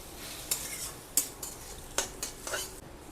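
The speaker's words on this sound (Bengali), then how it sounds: "ধনে গুঁড়ো দিয়ে একটু নাড়াবো" Okra being stirred in a pan with coriander powder: a spoon scrapes and clinks against the metal several times at a steady pace over a soft sizzle, close and fairly quiet.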